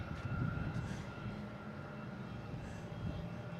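An airliner, an American flight arriving from Louisville, approaches Boston Logan International Airport, its engines giving a steady low roar at middle distance with no voices over it.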